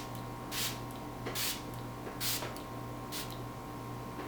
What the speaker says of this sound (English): let's spray this baby down.